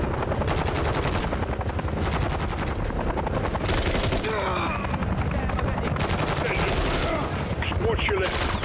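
Automatic and rapid gunfire in the Modern Warfare 3 (2023) video game, a dense continuous barrage of shots running throughout, loud and busy with game sounds layered in.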